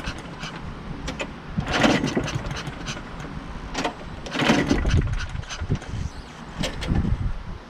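A push mower fitted with a weed eater carburetor is being started: its small engine rumbles and sputters in uneven bursts that surge and fade, loud and close, with no speech.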